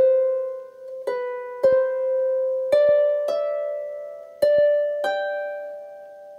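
A harp plays a slow phrase of the tune Jock O'Hazeldean, its clear plucked notes struck one at a time and left ringing, heard alone and close.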